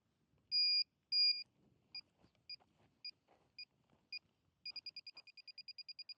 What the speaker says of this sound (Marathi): बीप वाढलेलं आहे मशीनचं